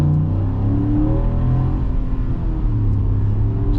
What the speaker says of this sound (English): you got that nice V8 making some good sounds